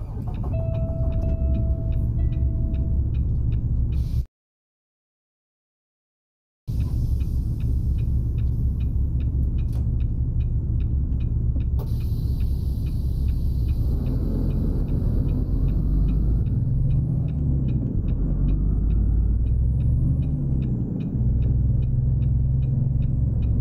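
A truck with an MX-13 engine rolling along in American Truck Simulator, a deep, steady engine rumble with a low hum, broken by a brief silent gap before the drone resumes and swells slightly.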